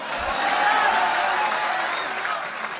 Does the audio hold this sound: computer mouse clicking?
no